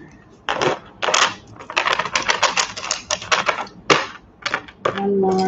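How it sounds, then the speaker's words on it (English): A deck of cards being shuffled, with repeated quick riffling bursts and crisp flicks in an irregular rhythm, close by, ending on a brief steady tone. "One more shuffle."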